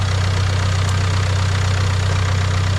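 A Range Rover Evoque with 26 miles on the clock, bought at a Copart auction, idles steadily with a loud, even low engine hum and no talk over it.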